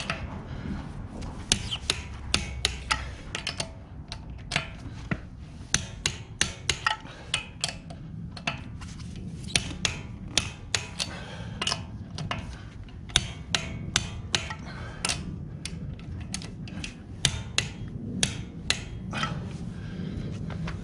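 A torque wrench tightens car wheel lug nuts in a crisscross pattern during a DIY tire rotation. It makes a long run of sharp, close metallic clicks and ratcheting snaps, with brief pauses between bursts of clicking.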